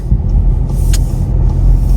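Street traffic with cars passing, a continuous close low rumble of engines and tyres with small swells as vehicles go by.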